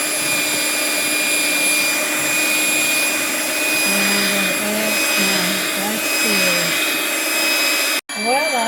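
Steady whir of an electric mixer beating cherry cake batter, loud and continuous for about eight seconds before cutting out abruptly near the end.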